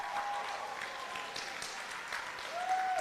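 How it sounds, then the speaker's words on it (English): Audience applause for missionaries from Belize at a church event, a steady wash of clapping across the whole stretch, with a brief tonal whine near the start and end. "give them a round of applause"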